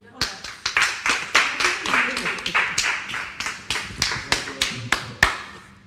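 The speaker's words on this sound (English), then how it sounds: "Wanna clap?" A small group of housemates claps indoors, distinct close hand claps in a loose, uneven rhythm, roughly a dozen and a half separate strikes with no talking over them.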